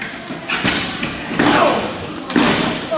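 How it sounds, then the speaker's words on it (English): Heavy thuds and slams from a live pro wrestling match as a wrestler's head is driven into an opponent's knee, several loud impacts over crowd noise and a commentator's voice. "Killer Keith slamming the head into the knee of Tommy Lee"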